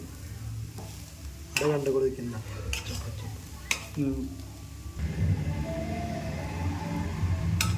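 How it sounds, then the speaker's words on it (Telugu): Grated carrots fry in ghee with steady sizzling and spoon-stirring scrapes in a pan, a voice speaking briefly over the cooking noise. "ఇప్పుడు తీసుకున్న క్యారెట్ని అంతా ఇట్లా నెయ్యిలో బాగా ఫ్రై చేసుకోండి."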